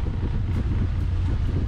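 Strong wind of 25 knots plus from a passing front buffets the microphone on a sailing yacht, a loud, steady roar with gusty rumble and no voices.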